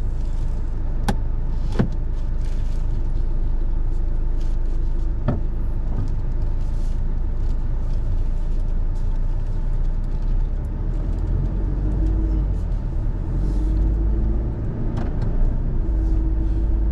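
Steady in-cabin road noise from a new 2025 Toyota Hilux G pickup cruising on a highway, a continuous low rumble with a few faint clicks and thumps throughout.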